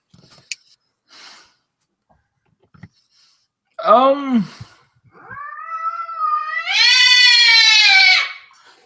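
A cat yowls loudly, first a wavering wail, then a long rising, strained caterwaul close by, with faint shuffling before it.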